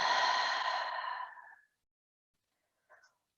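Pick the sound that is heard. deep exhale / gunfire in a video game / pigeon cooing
deep exhale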